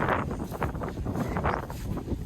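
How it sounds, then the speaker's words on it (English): Steady wind buffets the microphone with a constant rough rumble and rustle, no voices, fairly loud throughout. "Obviously it's windy already"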